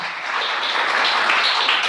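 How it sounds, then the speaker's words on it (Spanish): A church congregation applauds during a Sunday morning sermon, a steady, dense wash of clapping that holds at an even level for about two seconds with no voices over it. "Denle el aplauso a Cristo esta mañana"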